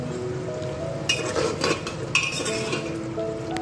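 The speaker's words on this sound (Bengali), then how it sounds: "আলু দিব, কষাচ্ছি এখন" Mixed vegetables and potato being stirred and sautéed in a pan, with steady frying sizzle under a metal spoon that scrapes and clinks against the pan in a few bursts.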